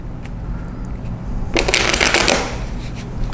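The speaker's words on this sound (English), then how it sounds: "first I'll shuffle the cards" A deck of playing cards riffle-shuffled close by, a brief rapid fluttering burst in the middle with quieter card handling before and after.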